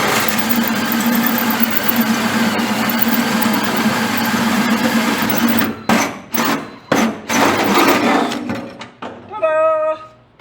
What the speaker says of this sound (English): let's try this once again with a straight drill bit